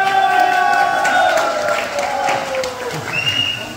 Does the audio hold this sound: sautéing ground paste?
no